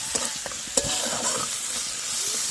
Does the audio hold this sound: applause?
no